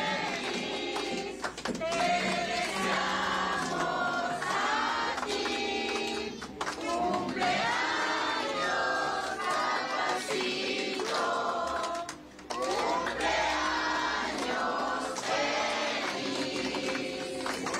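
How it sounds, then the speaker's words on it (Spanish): A crowd at a community show in Machala sings Happy Birthday together over playing music, loud and continuous, with voices and instruments blended throughout. "Vamos a cantarle el cumpleaños feliz"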